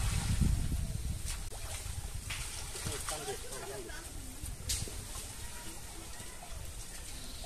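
A small village boat is towed through floodwater on a fishing outing, making a continuous wash of water and hull noise with faint muffled voices nearby.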